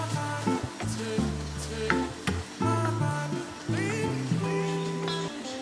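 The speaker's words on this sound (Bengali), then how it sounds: "এবার সব কিছুকে ভালো মতো কিছুক্ষণ কষিয়ে নেব" Chicken sautéing in a pan with garlic-ginger paste and cumin-coriander paste for butter chicken, stirred steadily, with a close, continuous sizzle and repeated scraping strokes from a spoon.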